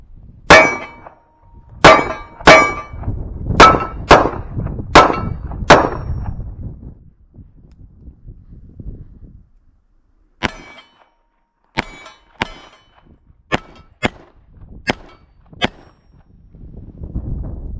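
Shots from a 1911A1 pistol in .45 ACP fed by a Wilson Combat magazine: five loud, sharp reports in quick succession, a pause, then a second string of about eight cracks spaced roughly a second apart, each ending abruptly.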